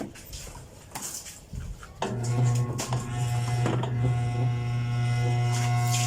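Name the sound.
faulty electric fan being tested, struggling to spin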